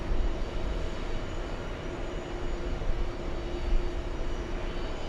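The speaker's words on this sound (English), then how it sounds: "On the runway, we have the flight from Hong Kong, Cathay." Cathay Pacific airliner, arrived on a 15-hour nonstop flight from Hong Kong, rolling on a runway at JFK, a steady broad engine roar holding at a constant distance and moderate loudness throughout, with no voices.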